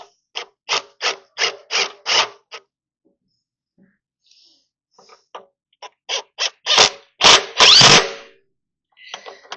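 Bolts on a car's sway bar being tightened with a socket ratchet, giving quick runs of crisp, close clicking separated by short pauses.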